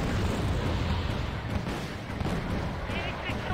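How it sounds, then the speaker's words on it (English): .50 cal machine guns firing continuously in the real-time strategy game Wargame: Red Dragon, a dense rumbling barrage of shots and explosions layered with distant booms, heard under a voice commenting. "50 cals now opening up on anything that's daring to get too close"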